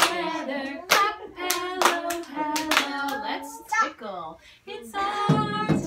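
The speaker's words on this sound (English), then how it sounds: "It's our time to clap together." In a baby and toddler music class, hands clap along in a roughly steady beat beneath a sung melody, the sharp claps punctuating the singing voice throughout.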